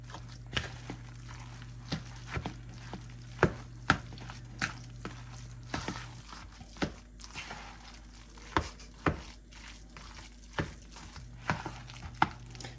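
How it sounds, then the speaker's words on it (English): A spoon works through a hash brown casserole mixture with raw onions in a bowl, giving soft, irregular scrapes and wet thuds spaced about a second apart, quiet and close, without talk. "Mix all of this together really well."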